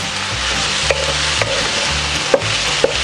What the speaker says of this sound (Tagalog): chicken na naiprito na natin. Tapos hahaluin lang po natin.